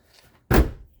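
A Ford Explorer door, its rear lock actuator just replaced, is shut with a single solid close-range thunk after a quiet moment, the slam ringing out briefly.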